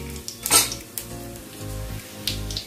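Whole cumin, cinnamon, small cardamom and a bay leaf fry in hot oil, a low crackling sizzle punctuated by several sharp clinks of a metal utensil against the pan.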